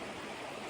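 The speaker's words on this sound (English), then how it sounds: "that is crossing the 10-mile river this way, and over here is the Housatonic River." A river, the Housatonic or the Ten Mile, flows beneath a bridge on the Appalachian Trail, giving a steady, dense broadband rush with no voices.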